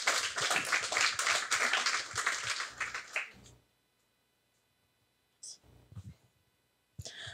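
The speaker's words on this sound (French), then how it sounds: "Vous pouvez les applaudir aussi." A small audience at a café discussion event claps for presenters in a brief burst of hand claps that stops abruptly, followed by near silence and a few scattered sounds.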